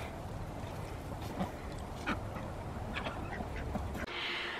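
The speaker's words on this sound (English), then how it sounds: "See, the ducks also love to go through all this stuff." Ducks foraging through garden compost, with soft quacks and rustling over a steady outdoor background that stays even for a few seconds.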